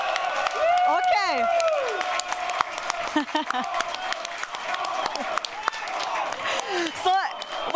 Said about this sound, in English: Can I hear some noise from the Heroic fans?